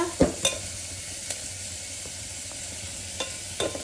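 Four chopped onions frying in a pan as they are stirred; a few sharp spoon scrapes and knocks stand out at the start and end over a quiet, steady low sizzle.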